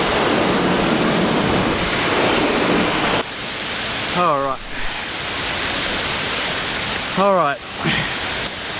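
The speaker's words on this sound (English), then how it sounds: "It looks interesting how the water's coming out of the logs up the top" Water pours over and under logs in the bush, a steady loud rush close by, with brief spoken voices breaking in twice.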